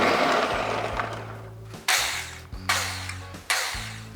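A Ninja Detect blender on small chop mode pulses in short bursts, each a loud whirring roar lasting about a second, broken by brief pauses and a low motor hum.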